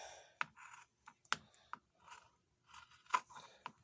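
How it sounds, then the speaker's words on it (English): A heavy-duty pair of scissors snips through leather in a handful of short, crisp cuts spaced irregularly, close and fairly quiet against near silence. "we're just going to cut that line out"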